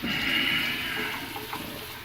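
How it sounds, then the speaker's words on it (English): Running water pours steadily onto a waterstone as it is wetted for knife sharpening, a close, loud splashing hiss that slowly eases. "get your stone wet"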